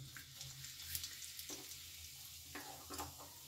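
Asafoetida goes into hot oil for a tempering and sizzles quietly as it is stirred. Soft scrapes and small bursts of frying noise come and go over a low hiss.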